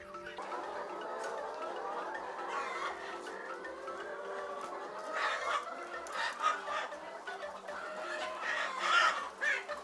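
Many chickens cluck and chatter at a large farm poultry unit, a dense continuous flock murmur with occasional louder squawks and a distant rooster crow, steady throughout.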